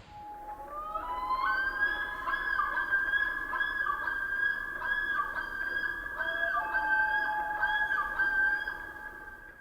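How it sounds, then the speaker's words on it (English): A common loon's long, wavering, yodel-like call rings out over Mille Lacs Lake, rising and falling in repeated phrases with a hollow, echoing quality against a quiet background. "The eerie, reverberating calls of these large diving birds is a quintessential sound of the North Woods in summer"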